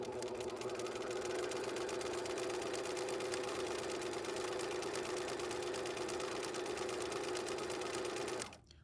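A sewing machine stitches a practice buttonhole at a half stitch length, running as a steady, fast, close mechanical whir for about eight seconds before stopping abruptly.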